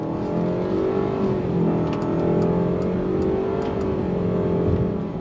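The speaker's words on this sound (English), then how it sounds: "You do get a lot of noise from the CVT and the inline 4" Steady, close engine drone inside a 2022 Mitsubishi Outlander Special Edition SUV as it accelerates after a U-turn, its CVT whine and inline-four hum rising smoothly and continuously with no talking.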